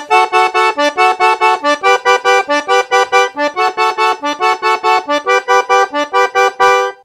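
A looped forró pattern on piano accordion: quick, evenly pulsed reedy chords repeating in a tight syncopated groove for several bars, loud and close with no voices.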